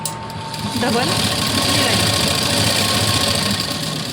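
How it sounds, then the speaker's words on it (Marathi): A sewing machine stitches a blouse, giving a steady, close mechanical whirr with a fast rhythmic hum that starts after a brief pause and runs evenly to the end. "तर इथे स्टिच करते"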